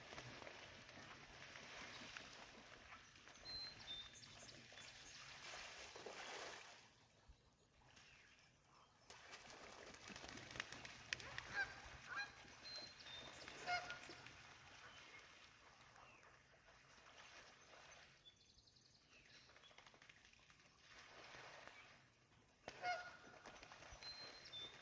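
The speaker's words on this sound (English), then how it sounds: "we've biked up on a whole flock of geese, just trying to cool off" A flock of geese resting by a creek in rural northern Pennsylvania, honking in scattered bursts at moderate distance, with quieter gaps and faint outdoor background between calls.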